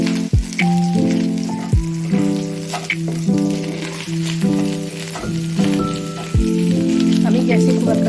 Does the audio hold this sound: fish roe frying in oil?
yes